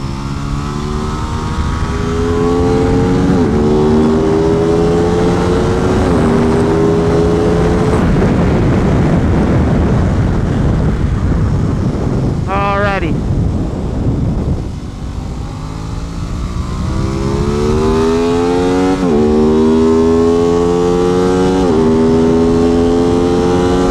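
An Aprilia RS660 sport motorcycle on a hot lap around a race track, its engine loud and close as it revs up through the gears in rising sweeps, drops at each shift, eases off briefly, then climbs again.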